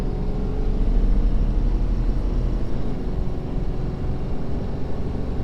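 A Powerstroke diesel truck accelerates up a grade while towing 14,500 lb, giving a steady, loud, low engine drone and road rumble that holds throughout with no talking.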